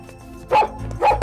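A sniffer dog searching for a bomb barks twice, loud and close, in a busy scene with a steady background hum.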